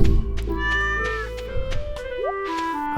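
Cat meows from a cat in the farming game Stardew Valley, several short game-style meows over steady background game music, fairly loud and clear with no talk.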